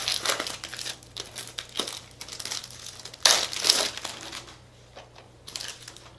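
Plastic wrapping being torn and peeled off a German Incredibles steelbook Blu-ray case, a close, steady crinkling and crackling with a sharper tearing burst midway, then fading toward quiet, no voices.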